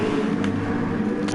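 Race car engine in a racing video game droning steadily as the car comes into the pits at Kyoto for a tyre change, a continuous loud hum with no pause across the short stretch.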